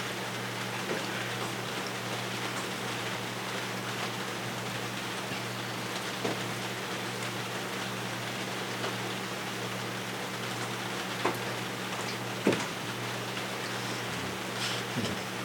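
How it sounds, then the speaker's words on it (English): Steady rain falls in a farming video game, a dense, even hiss of drops that carries on without a break, with a few faint taps, and no talk. "I don't think I can get back to any farming today because it's raining."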